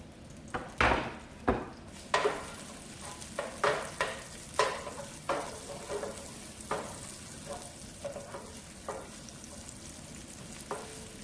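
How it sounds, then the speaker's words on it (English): Fresh onions sautéing in about two tablespoons of oil in a pan, a soft steady sizzle broken by a dozen or so sharp utensil scrapes and taps against the pan, fairly close. "I'm going to add the fresh onions to saute"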